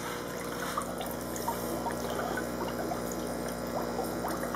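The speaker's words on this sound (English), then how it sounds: "I've got four big air stones." Four large air stones bubble in water to aerate a compost brew of mushroom substrate worked by red wigglers, producing a soft, constant gurgle and trickle of small bursts, low in level and steady throughout.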